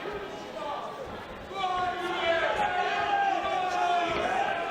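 A boxing crowd at a live fight night in Sheffield chants a fighter's name in loud, swelling unison that grows stronger partway through, with an arena echo and a commentator's voice over it.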